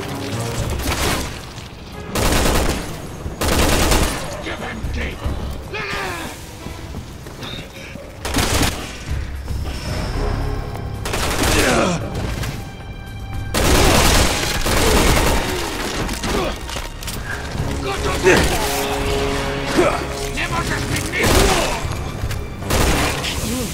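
Gunfire and explosions in the video game Resident Evil 6: repeated loud bursts of rapid shots and heavy booms, interspersed with quieter gaps and clattering debris, continuing for many seconds.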